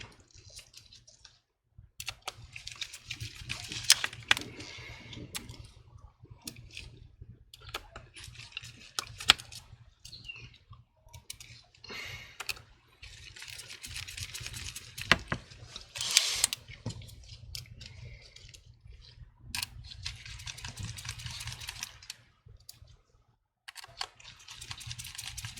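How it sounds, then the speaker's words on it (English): Small screwdriver driving screws during a MacBook Pro screen repair, giving soft intermittent clicks and scratchy turning bursts, close and fairly quiet, with brief pauses between screws. "Now, come back and finish up the rest of the screws."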